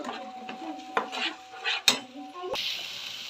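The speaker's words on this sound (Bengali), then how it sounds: "কাঁচা টমেটো আর কাঁচা লঙ্কা পিষে নিয়েছিলাম, দিয়ে নাড়াচাড়া করে নেবো মিনিট দিয়ে" A spoon stirs a paste of raw tomato and green chilli in a pan, with scraping strokes, a couple of sharp clinks against the metal and a faint sizzle underneath, heard up close without talk.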